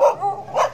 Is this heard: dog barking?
yes